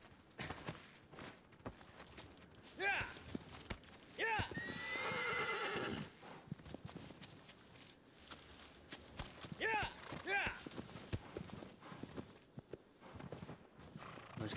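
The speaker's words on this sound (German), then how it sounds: "Ich kann nur mit dem Pferd gehen." Horse in the video game Shadow of the Colossus, with repeated whinnies and neighs plus some clip-clop hooves, mixed with game sounds and someone talking over parts of it.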